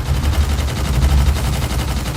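Rapid, steady gunfire from the main cannons in the VR shooter Gunjack, a dense run of heavy low-end blasts that keeps going without a break, loud and close.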